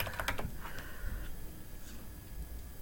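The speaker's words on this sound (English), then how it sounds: "I'm trying to type" A computer keyboard clatters with a quick run of close, light key clicks for about a second, then falls to quiet room hiss.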